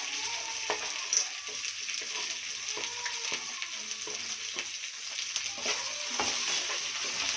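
Green chillies, curry leaves, onion and cashew pieces fry in hot oil for cashew upma, giving a steady bright sizzle with soft scraping of a spoon and light clinks. Nobody speaks.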